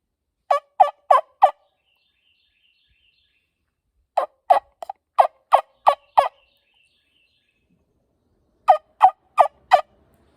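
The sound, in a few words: turkey wingbone call imitating turkey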